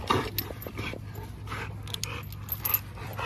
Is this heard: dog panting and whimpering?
yes